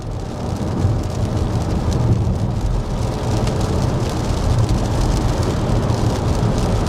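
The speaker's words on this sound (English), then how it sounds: "there's some rain that is lightly hitting the window" Light rain patters on the window of a 2024 Ford Kuga PHEV driving at about 70 km/h, a soft steady patter blended into loud, continuous road and cabin rumble with no voices.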